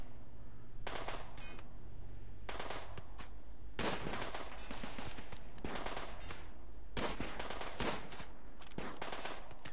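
Raiders and gun turrets firing in the video game RimWorld, with repeated loud bursts of rapid automatic gunfire in irregular volleys and brief pauses between them.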